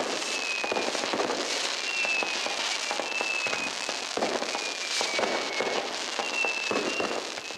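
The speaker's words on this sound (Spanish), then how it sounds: "una impresionante exposición de fuegos artificiales que inundan de colores la noche cusqueña" Fireworks at the Inti Raymi sun festival night in Cusco crackle and pop continuously, with scattered bursts and occasional whistling streaks, heard from a distance without any talking.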